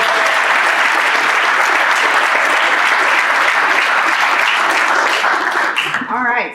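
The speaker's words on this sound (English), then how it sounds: "let's give a great big round of applause to the best flying president" Loud, dense applause from Rotarians and guests at a scholars' celebration luncheon, filling the room steadily before breaking off near the end as a voice begins.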